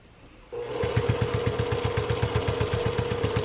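A sewing machine stitches through a thick tote bag side seam, starting abruptly and running at a steady fast rhythmic chug with a constant motor hum, close and loud, no talking.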